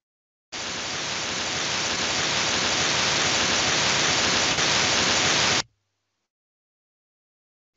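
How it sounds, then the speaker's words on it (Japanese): Steady broadband white noise plays alone for about five seconds, constant and fairly loud, starting and stopping abruptly with silence on either side. "ホワイトノイズ。"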